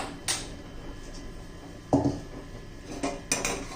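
A metal pot of eggs is set down on a stove and covered with a lid, giving a few distinct clanks and knocks over a quiet kitchen background.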